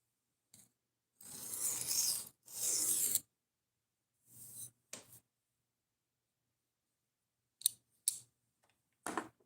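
A knife is drawn over a 600 grit sharpening stone in short rasping strokes, a few close together, then quiet gaps before more brief passes near the end.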